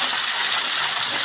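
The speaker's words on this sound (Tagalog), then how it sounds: "Ayan na yung tubig oh. Ang lamig." Cold mountain spring water flowing steadily on Busay Mountain in Camburanan, Capiz, a loud, continuous broadband rush with no pauses or voices.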